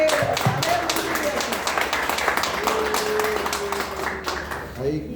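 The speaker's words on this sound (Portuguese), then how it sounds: "gostaria de pedir uma salva de palmas ao Senhor" A church congregation at a communion service claps together, steady and fairly close, while voices and a sustained tone carry beneath the clapping before it thins out at the end.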